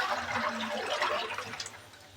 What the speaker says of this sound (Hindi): लीटर पानी ऐड कर देंगे।